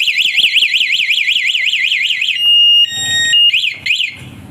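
A loud electronic motorcycle alarm on a Honda Wave 110 warbles rapidly up and down, then switches to steady beeping tones and chirps before warbling again.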